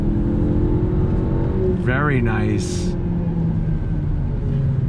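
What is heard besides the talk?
2020 Honda Civic Sport Hatchback accelerating on twisty road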